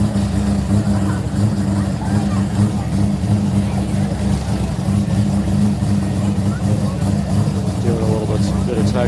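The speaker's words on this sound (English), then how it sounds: "is that the rotary Supra?" A rotary-engine Toyota Supra driving past with a loud, buzzing engine drone that rises and falls under rev changes, heard at an event with people talking over it and crowd noise behind.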